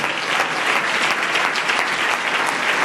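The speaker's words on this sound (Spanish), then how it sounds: "Dele ese aplauso a Jesús en esta noche" A church congregation applauding, a dense, sustained roar of many hands clapping together, loud and even throughout with no voices standing out.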